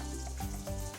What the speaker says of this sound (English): I'm just gonna turn the sink on to a cold temperature.